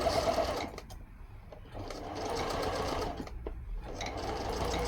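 A sewing machine runs steadily while stitching a Christmas advent calendar fabric panel, a close, continuous motor whir broken by a few short pauses.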